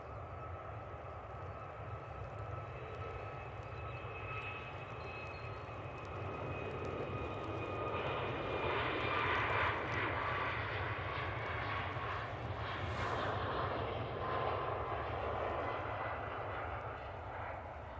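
A Ryanair passenger jet at Manchester Airport gives a steady, loud engine roar that swells in the middle and stays broad and sustained for the whole stretch, with no voices.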